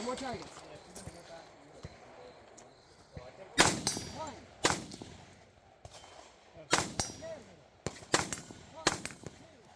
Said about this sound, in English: Keep going. Two more targets.